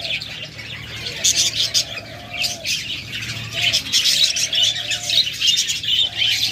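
Budgerigars, cockatiels and lovebirds chatter and chirp together, busy overlapping calls that rise and fall in loudness, close and continuous, with a soft low murmur underneath.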